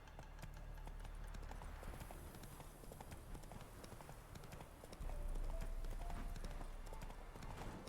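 Hooves of a horse clip-clop at a steady trotting rhythm in The Witcher 3 video game, continuous and fairly quiet, with a louder stretch in the second half and no talk over it.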